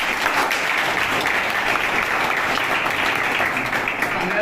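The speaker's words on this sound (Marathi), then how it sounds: "एकदा जोरदार टाळ्या त्यांच्यासाठी झाल्या" A crowd at an Independence Day gathering at a Marathi residential addiction-recovery centre gives hearty applause, a thick, continuous patter of many hands filling the space at an even level.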